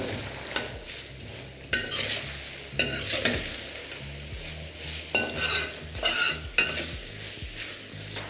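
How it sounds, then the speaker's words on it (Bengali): Onion fries in a pan with spices for a Bihari-style chicken masala, with steady sizzling broken by repeated scraping stirs of a spatula against the pan, close up and with no talk. "এবার ভালো করে এটাকে আপনাদের ভেজে নিতে হবে অবশ্যই লাল লাল করেই ভাজতে হবে"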